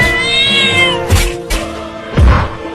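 Cat meows loudly and close up in a drawn-out, wavering call, followed by a couple of shorter low growling bursts, with no talking.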